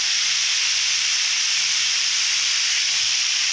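Potatoes and malabar spinach sautéing in an oil-filled pan, a steady, loud, broadband sizzle that holds evenly throughout with no talking.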